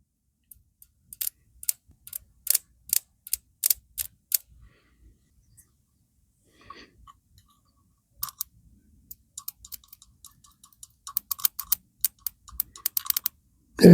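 Motorcycle ignition spark, from a test setup, arcs to ground in sharp, dry snapping ticks, irregular at first, then clustering into rapid bursts of crackling clicks close by in an otherwise quiet space.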